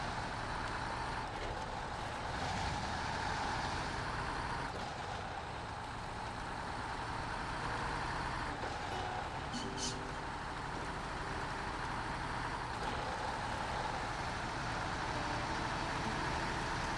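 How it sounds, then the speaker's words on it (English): A truck engine drones steadily in the video game Snowrunner, a constant low rumble with faint mechanical whines and clanks over it, never pausing. "this truck makes so many weird noises."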